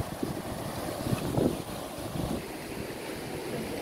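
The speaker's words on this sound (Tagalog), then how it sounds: "Ang lalakas ng mga alon." Strong ocean waves along the Guam coast near the 1000 steps, a steady, faint surf wash mixed with wind noise on the microphone, no voices.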